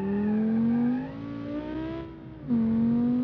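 A sports sedan engine in a video game hums and revs steadily, pitch rising then easing off before surging again, with a smooth synthetic tone and no talking.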